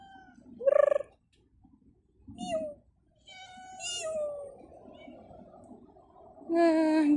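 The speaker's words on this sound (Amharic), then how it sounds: "እንግዲህ ሀዲቃ ውስጥ ያሉ ድመቶች ያው እንደተለመደው" Cats in a park meow in several separate, close, clear calls, some short and some drawn out, with quiet gaps and faint background noise between them.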